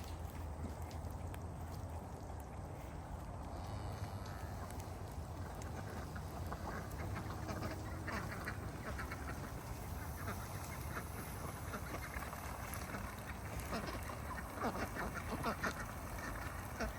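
A flock of around eighteen homestead ducks quacks faintly and steadily, overlapping calls spread out under a low background hiss.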